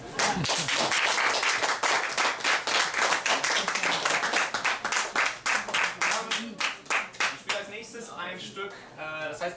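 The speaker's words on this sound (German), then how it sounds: "deshalb dafür vielleicht mal einen Applaus." Enthusiastic audience applause at Moers Festival, many hands clapping loudly and close, then breaking into a rhythmic, pulsing clap that thins out as a voice begins speaking near the end.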